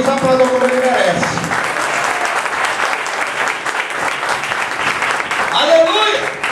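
A Baptist church congregation in Fortaleza, Ceará applauds loudly and continuously, with voices speaking over the sustained dense clapping throughout.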